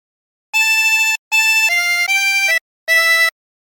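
Harmonica playing a short Wellerman phrase without bends, four clean sustained reedy notes in a stepped rhythm with brief gaps, loud and close with no talk.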